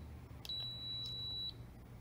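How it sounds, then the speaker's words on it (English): An AutoSlide 10-digit wireless keypad gives one long, steady, high-pitched electronic beep of about a second over a quiet room hum. "That long beep shows it's ready."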